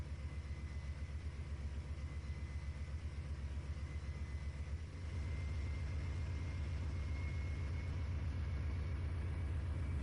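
A simulated locomotive engine in Trainz 2019, a steady low diesel rumble that steps up slightly louder midway as the throttle is opened, continuous and alone.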